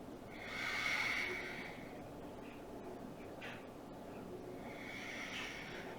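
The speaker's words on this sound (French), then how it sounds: "Belle respiration profonde et en contrôle." Slow, deep breaths during a vinyasa yoga flow, a soft airy inhale-exhale swell that rises and fades twice, quiet and close with no talking.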